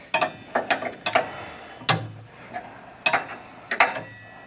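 A wrench ratchets in short bursts of metallic clicks on a saw shaft while a blade is swapped, several quick clicking runs separated by brief pauses, close and alone.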